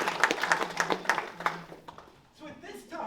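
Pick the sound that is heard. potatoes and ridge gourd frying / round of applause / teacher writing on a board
round of applause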